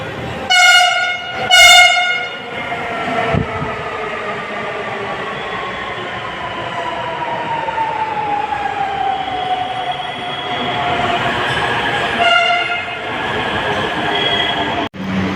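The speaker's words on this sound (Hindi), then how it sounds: "ये देखिए RRTS ट्रेन जो है वो आ चुकी है" A Namo Bharat RRTS train pulls into a station, two short loud horn blasts opening a steady rumble and whine of the train gliding in and slowing, with another brief horn burst near the end.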